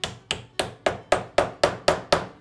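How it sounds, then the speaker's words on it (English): Hammer tapping a press-fit pin into a custom knife handle: nine crisp, evenly spaced metallic taps about a quarter second apart, close and clear with nothing else sounding. "So we can use a hammer, and we don't necessarily have to glue this one in."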